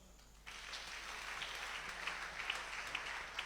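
Congregation in a church service clapping and applauding together, a steady dense patter of many hands that starts abruptly and holds at an even level, with a few sharper claps standing out.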